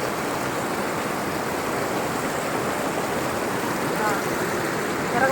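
River stream water rushing steadily near a small falls, a dense continuous hiss and roar with no breaks, fairly loud and close, with no distinct voices over it.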